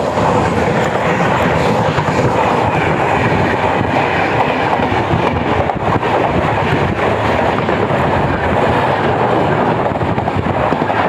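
Jamnagar–Ahmedabad Vande Bharat Express train near Ahmedabad station, a loud, steady rush of rolling wheels and rail rumble with faint clickety-clack, continuous and close throughout with no talking.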